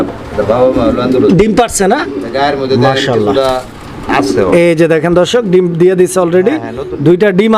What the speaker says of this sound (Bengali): এটা কি কবুতর দেখাইতেছেন মুন্ডিয়ান ভাই মুন্ডিয়ান কবুতর